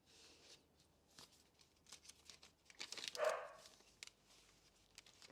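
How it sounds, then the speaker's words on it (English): Dogs barking somewhere off in the house, faint and distant: several short, scattered yaps across a few seconds with one louder bark near the middle, in an otherwise quiet room. "Excuse my dogs barking at heaven knows what."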